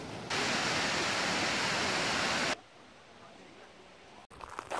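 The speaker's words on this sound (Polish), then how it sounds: "spada on z łoskotem jako nasz wodospad kamieńczyk" Kamieńczyk waterfall in Poland roars as a dense, loud wash of falling water for about two seconds, then drops abruptly to a quieter, more distant rushing.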